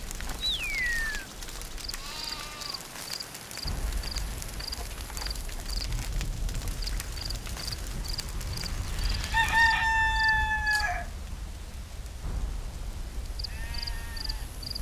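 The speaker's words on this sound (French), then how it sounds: "Ce coq me réveille tous les matins à l'aube." A rooster in a video game crows loudly in several drawn-out cock-a-doodle-doo calls, with a steady ticking game sound and faint farmyard bleats in the background, no talk.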